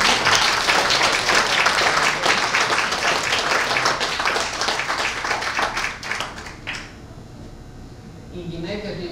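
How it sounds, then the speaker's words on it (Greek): Audience applause at a tribute event held by the Spata women's association: dense, steady clapping for several seconds that thins out and fades near the end, with voices mixed in. "Ένα χειροκρότημα."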